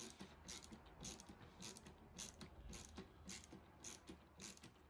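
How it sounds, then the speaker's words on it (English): A hand screwdriver driving screws into metal hinges, a regular series of close ratcheting clicks repeating roughly every half second, with no talking. "I'm going in with an hand screwdriver here because I didn't want to strip the screws or anything"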